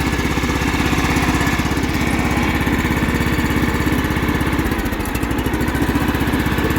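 A John Deere L110 lawn tractor, left sitting for ten years, runs with a steady, loud, close engine drone and rapid rhythmic pulsing, holding constant with no voices.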